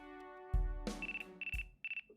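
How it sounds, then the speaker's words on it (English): A phone ringtone from the video game Ace Attorney: Dual Destinies, a bright electronic melody of repeated tones followed by short pulsing rings, clear and alone with a couple of soft thumps. "Looks like I have a phone call. What a lame ringtone, bro"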